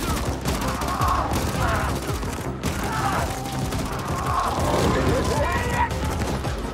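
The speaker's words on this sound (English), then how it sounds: "Gunfire." Heavy gunfire in a cyberpunk survival video game: dense, rapid, continuous shooting with crashes and booms, loud and sustained throughout with no quiet gaps.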